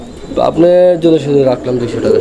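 A pair of fancy pigeons coo in soft, throaty bursts close by, with a voice talking over them.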